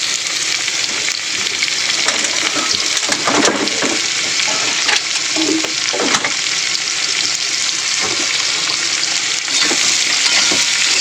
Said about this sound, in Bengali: আলুগুলো একটু লাল লাল করে ভেজে নিই, তারপরে এর উপরে পেঁয়াজ দেবো।